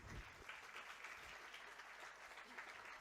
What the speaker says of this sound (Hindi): हमारी बात पर उन्होंने ताली बजा दी